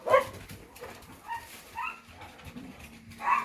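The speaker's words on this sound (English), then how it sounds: "I'm sorry you guys can hear Rose barking. She's quite angry." Rose, a dog, barks and yips angrily in the background, several scattered, moderately distant barks and whimpers over a quiet room.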